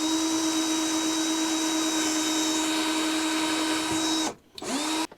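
A power drill boring a small pilot hole while a Lagun swivel table is fitted to a milling machine, a steady close whine holding for about four seconds, then dropping out and briefly spinning back up.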